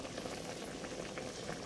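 A pot of water simmers at a steady rolling boil after about ten minutes on the heat, giving a soft continuous bubbling that is close but faint, with no talking.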